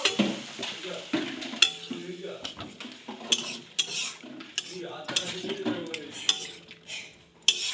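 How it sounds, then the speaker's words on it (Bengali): Water poured into a cooking pot of fried masala, with sizzling under repeated clinks and scrapes of a metal spoon stirring against the pot, close and busy throughout. "কষানো হয়ে গেছে, এবার জল দিয়ে দেবো আমরা।"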